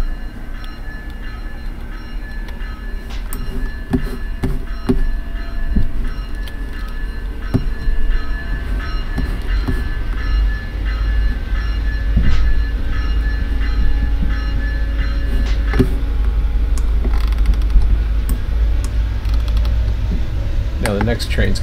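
A freight train in the Run8 train simulator game rumbles steadily with low engine drone and intermittent clanks, growing slightly louder, while keyboard typing clicks and brief talk occur over it.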